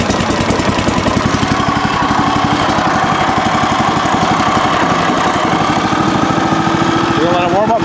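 A choked Kohler Command Pro 14 hp engine on a Woodland Mills HM130MAX sawmill, pull-started and running with a loud, close, steady rapid chugging throughout.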